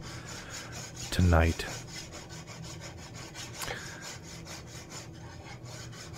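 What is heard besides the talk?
filing a steel blade by hand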